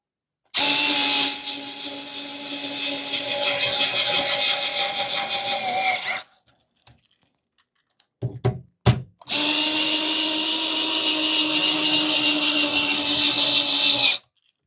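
A Parkside Rapidfire 2.2 mini 4-volt USB-C cordless screwdriver drives screws into pre-drilled holes in wood. Two long, loud, steady motor whirs are separated by a pause with a few brief clicks and handling knocks.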